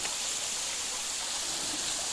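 A small waterfall in the Japanese countryside pours a steady, hissing rush of water, close and continuous with no voices over it.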